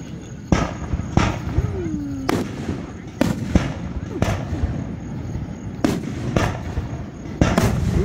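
A Fourth of July fireworks show over Lake Secession sends out repeated booming launches and bursts, irregularly spaced and loud, with a whistling rise heard once, while spectators talk and react throughout.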